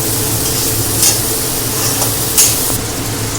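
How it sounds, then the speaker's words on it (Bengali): Potatoes and onions fry in a pan, giving a loud, steady, close sizzle broken by occasional scraping stirs. "এবার পেঁয়াজের সঙ্গে আলুটা আমি সুন্দর করে একটু কষে নেব।"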